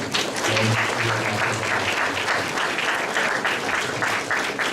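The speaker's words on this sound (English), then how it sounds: "let's just give a round of applause to everyone's help" An audience at a school math festival event gives a round of applause, a full, steady burst of clapping that carries evenly from start to finish.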